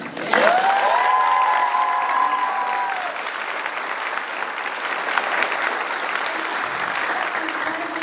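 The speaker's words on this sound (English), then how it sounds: "I would like a huge round of applause for Carr." A convention panel audience at Gen Con 50 applauding loudly and steadily for several seconds, with a whistle or cheer near the start over the clapping.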